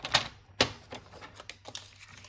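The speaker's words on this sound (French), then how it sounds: "on prend notre massicot" A paper trimmer (massicot) cutting paper gives a series of quiet, sharp clicks and scraping snaps in an irregular rhythm, close by and alone.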